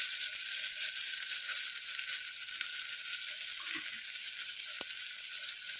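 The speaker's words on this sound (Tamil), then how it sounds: "போட்டு வதக்கியாச்சு." Coriander and mint sizzle with tomato in a hot pan, a steady close frying hiss broken by a few soft stirring scrapes and one sharp click.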